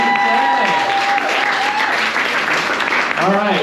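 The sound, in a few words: audience applause at poetry festival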